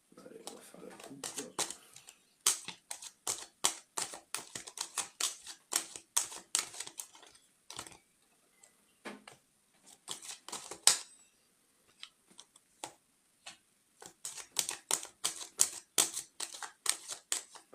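Tarot cards being cut and handled by hand, giving a long run of quick, crisp card snaps and shuffling clicks in uneven bursts with short pauses, close and fairly loud.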